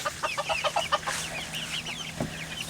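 Chickens of mixed breeds, including a dual-purpose meat mix, cluck and chatter in a homestead coop. Several birds make short repeated calls close by, with no talk over them.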